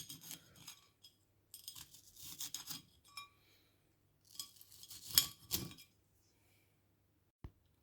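A knife cuts ulúa cactus fruits (Harrisia pomanensis) into quarters for ice cream, with close, crisp slicing and light clicks against a hard surface in several short bursts, ending in a single sharp tap.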